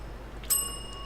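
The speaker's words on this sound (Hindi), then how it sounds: "अच्छा, घंटी बजानी है।" A bell in the video game Tales Beyond The Tomb rings once as a brief bright metallic ding with a lingering high tone that fades over about half a second, fairly faint against a quiet background.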